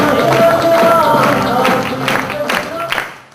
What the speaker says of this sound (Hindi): जबरदस्त तालियां इनके लिए।